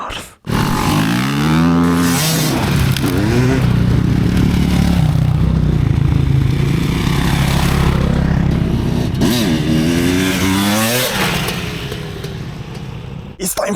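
The dual electric motors of a G4 MAX ride up a steep hill, a loud whine rising and falling in pitch over heavy rumbling wind noise.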